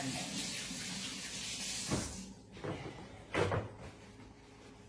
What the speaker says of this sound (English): I gotta wash my hands